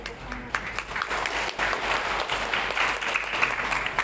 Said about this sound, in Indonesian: Tepuk tangan ini tidak menyelesaikan masalah ini.